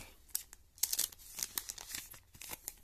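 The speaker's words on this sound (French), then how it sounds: "Je vais utiliser les ciseaux, hein." Scissors cut open a Japanese trading card display package, heard as a string of faint, close snipping, tearing and crinkling bursts with no voices.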